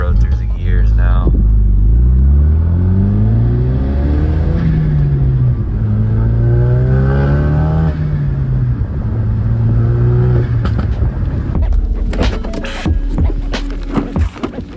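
A Ford Focus RS fitted with a Turbosmart wastegate actuator and a new e-tune pulls hard through the gears. The engine note climbs in rising sweeps broken by shift breaks. The car is loud and close, and some clatter follows near the end.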